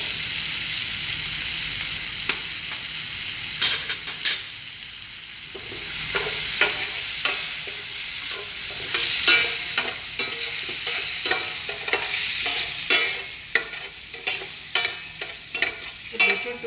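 Mushrooms fry in a pan on slow heat with a continuous sizzle, broken by frequent scraping and clacking stirs that come in irregular bursts, close and fairly loud, with no talking.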